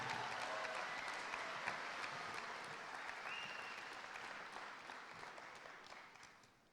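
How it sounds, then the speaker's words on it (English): Applause from the audience at a high school graduation ceremony, a broad wash of many hands clapping at a distance, fairly quiet and gradually fading out toward the end. "Let's give a big round of applause for Mr. Honey."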